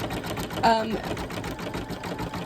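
A sewing machine stitches an Easter bunny table runner with a steady whirring run and a brief brighter burst early on, heard beneath someone talking.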